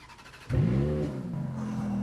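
A Ferrari F430's 4.3-litre V8 starts with a quick rev, then settles into a deep, steady idle rumble close by.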